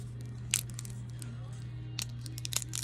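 Air-fried roasted chestnuts being peeled by hand give close, intermittent crunchy crackles and tearing bursts over a steady low hum.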